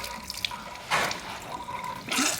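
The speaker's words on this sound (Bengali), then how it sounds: "মুখ ধোও, চোখে জল নাও" Water running from a tap while a child washes her face at a sink: steady splashing flow with louder gushes and splashes, close by.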